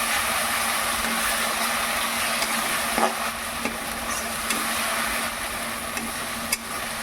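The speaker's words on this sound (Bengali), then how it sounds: "এরপর যে মশলাটা বেটেছিলাম সেটা আমি কড়ার মধ্যে দিই মশলাটাকে বেশ কিছুক্ষণ কষিয়ে রাখি" Ground spice paste fries in a wok with a steady, even sizzle, broken by a few light scrapes and taps as it is stirred.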